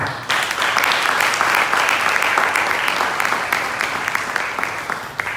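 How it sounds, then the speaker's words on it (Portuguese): A church congregation applauding during a teaching service, a burst of many hands clapping that starts abruptly, holds steady, then eases off. "Você pode dar um aplauso ao Senhor?"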